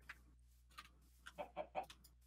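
Blocky Minecraft chicken clucking in a short run of soft, quick clucks that grow a little louder toward the end, with no talk over them.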